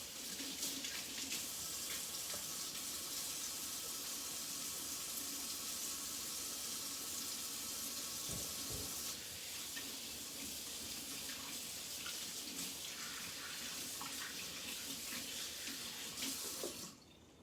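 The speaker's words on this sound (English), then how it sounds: "I need to wash up. Soap and water, 20 seconds." Hands are washed with soap under a running kitchen tap, a steady close rush of water splashing into the sink for about seventeen seconds that cuts off sharply at the end.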